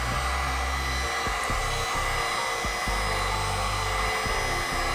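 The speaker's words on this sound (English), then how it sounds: "Now I'm going to hit it with this heat gun." Heat gun blowing over a thin acrylic paint pour, a loud steady whooshing airflow with close handling knocks, no talk.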